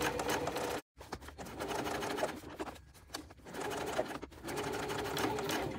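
A sewing machine top-stitches a tote bag seam in a steady, close whirring run that drops out for a moment near the start, then resumes at an even pace.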